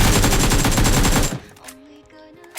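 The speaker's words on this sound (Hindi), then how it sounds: "तो वो गोली चलाता है पर लगती नहीं" Rapid automatic gunfire in a mobile shooter game rattles loudly for over a second, then stops abruptly, leaving quieter game sounds with a couple of faint thuds.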